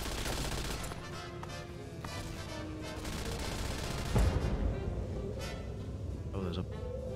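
Turret gunfire in Fallout, a steady stream of muffled shots rattling in the background under game ambience, with a heavier thump partway through.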